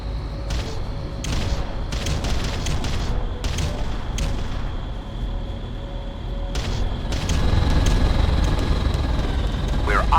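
Artillery bombardment in the video game Ground Control, a fusillade of sharp cracking blasts in bursts over a constant rumbling battle bed that grows louder toward the end.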